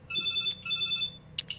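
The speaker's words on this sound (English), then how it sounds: "Oh, that's my phone." A mobile phone ringtone rings twice in steady bright tonal bursts, then a couple of short chirps follow, loud and close with no talking over it.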